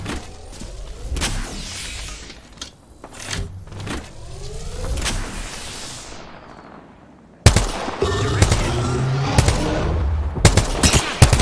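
Video game gunfire: sharp shots and bursts scattered across the stretch, loud and close, mixed with mechanical whirring and game effects, with a louder, denser passage near the end.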